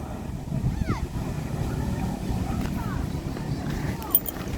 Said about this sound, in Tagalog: sobrang lakas ng hangin kasi mahirap ibaba mga boss